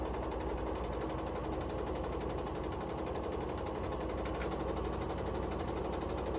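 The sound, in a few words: sewing machine stitching a quilt seam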